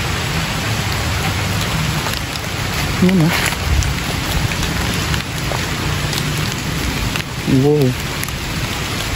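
Steady rain pours down in a cemetery, heard from beneath a sheltering tree, a dense continuous hiss filling the scene while a person briefly exclaims over it.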